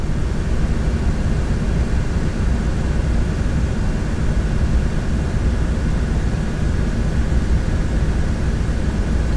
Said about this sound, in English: It's just the sound of piston pounders that just get to you.